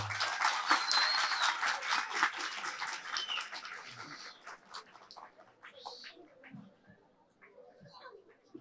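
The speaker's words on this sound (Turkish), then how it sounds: "Onun için sizlerden güçlü bir alkış istiyorum öncelikle" An audience at the opening of an indoor sports hall claps for a few seconds, dense and moderately loud, then thins out into scattered claps and quiet murmuring voices.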